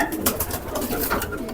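A pigeon coos in soft repeated throaty pulses, close by, over a murmur of background noise around a loft of fancier birds.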